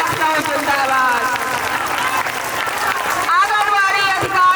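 Sustained, dense clapping from a crowd of Anganwadi workers at a sit-in protest at Eco Garden, Lucknow, steady and fairly loud throughout, with voices mixed in.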